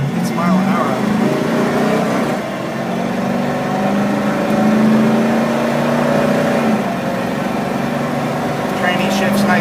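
A 1971 Ford Maverick Grabber engine revs and drones steadily from inside the cabin on a road test, pitch rising and falling with acceleration, while a person talks over it.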